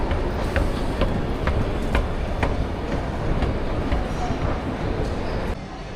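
Train at a Lisbon railway station rolls past with a steady rumble and rhythmic clickety-clack of wheels over rail joints, loud and nearby, with faint voices mixed in.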